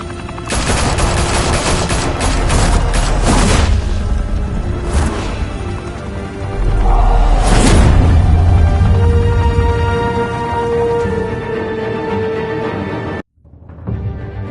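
Heavy gunfire in Batman The Telltale Series, loud bursts of rapid shots and automatic fire in a Gotham shootout, with sharp cracks, a brief lull, and a sudden drop to silence near the end.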